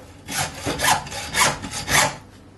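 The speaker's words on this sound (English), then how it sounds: "Along the bone, and then with our hacksaw," Hacksaw cutting through the bone of a beef rib eye with four or five rhythmic back-and-forth strokes, heard close and alone.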